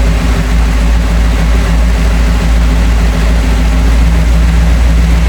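Flathead engine with dual carburetors idling, a loud, close, steady low rumble with an even throb that holds throughout without change.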